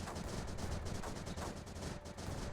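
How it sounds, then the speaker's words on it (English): Dense, continuous barrage of mortar fire and impacts in the strategy game Creeper World 4, a rapid crackling stream of overlapping shots at steady loudness with no talking. "It's freaking mortars all up here."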